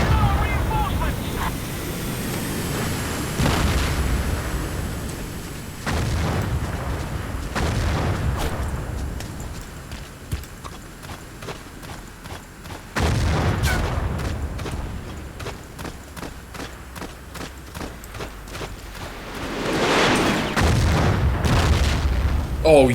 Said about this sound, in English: I took out a whole tank with a grenade